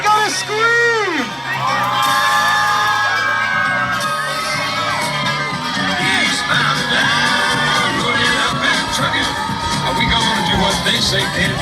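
A crowd of children and fans at an All Star Monster Truck Tour show in Aiken, South Carolina screams and cheers loudly with shrill rising yells, while an announcer's voice carries over the continuous roar.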